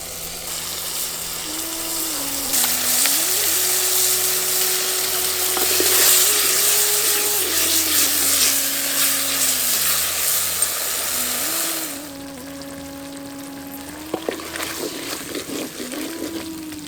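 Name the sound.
tamarind water boiling in pan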